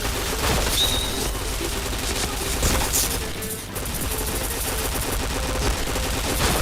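Rapid bursts of automatic rifle fire in the shooter game Point Blank, dense repeated shots throughout with a brief lull midway, loud and close.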